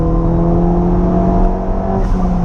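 A turbocharged Ford Fiesta ST engine with a hybrid turbo drones loudly and steadily, heard from close up, with a slight dip and rise in revs toward the end.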